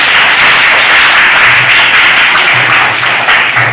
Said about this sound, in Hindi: सब लोग भाई ताली बजाइए उनके।